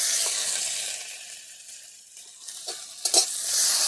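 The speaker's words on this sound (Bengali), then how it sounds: "টমেটোটা দিয়ে নাড়াচাড়া দিয়ে থাকবো।" Small pieces of chopped tomato sizzle steadily in hot oil with fried onion in a pan, with a few scraping stirs near the end; close, moderate level, no voices.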